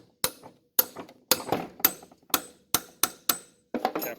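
A small hammer taps a part down on the engine of an LS-swapped twin-turbo squarebody truck, giving about nine sharp metallic knocks at close range, evenly spaced about half a second apart, with no talking.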